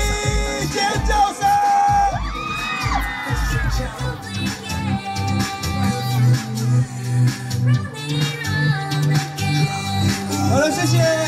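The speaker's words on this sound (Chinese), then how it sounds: "再一次尖叫，好不好？" A concert crowd at a seaside culture and tourism festival in Toucheng screams and cheers loudly and continuously, with music and amplified voices mixed in throughout.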